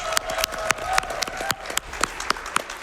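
A live audience at a Games Done Quick speedrun charity event claps steadily, with scattered sharp individual claps over a diffuse crowd wash, moderately loud.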